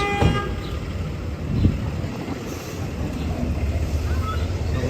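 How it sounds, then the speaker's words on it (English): Car horns honk on a busy New York City street, a couple of short toots at the start and middle over constant loud traffic roar. "Someone's being obnoxious by honking."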